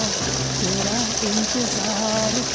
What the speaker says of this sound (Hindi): गांव का प्यारा सा झरना।